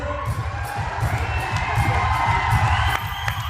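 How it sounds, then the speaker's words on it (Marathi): A crowd applauds and cheers loudly and steadily at an award ceremony honouring the Jai Birsa Munda farmers' group from Kavda village, Kalamnuri taluka, with clapping and whoops sustained throughout. "जोरदार टाळ्या"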